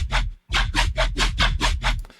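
Aggressive, growling layered neuro synth bass made in Vital, in a run of rhythmic bursts with a short gap near the start, layered with a hissy noisy top, loud and close, no voices.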